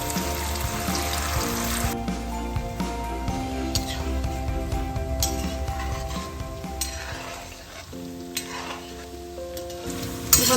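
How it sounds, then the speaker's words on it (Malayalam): Chicken marinated for an hour fries in boiling oil, a loud continuous sizzle with stirring and scraping, and a brief tap-water rush partway through. No one speaks. "ഇനി നമുക്കതിന് നല്ല തിളച്ച എണ്ണയിലോട്ടിട്ട് ഫ്രൈ ചെയ്തെടുക്കാം"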